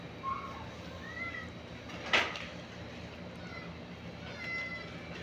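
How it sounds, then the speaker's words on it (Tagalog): Cats meowing softly at a distance over a constant hum of room noise, a few brief meows scattered through, with one sharp knock or thud in the middle. "Lance, nakatingin yung mga pusa"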